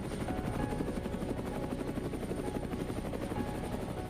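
Helicopter flying over the Alaskan wilderness, its rotor chop a rapid, steady thumping blended with loud, continuous engine roar throughout.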